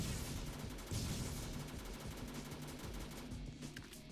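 A P90 firing in the Tower of Killers video game, a fast continuous rattle of rounds held for several seconds, faint and low in level, with no talking.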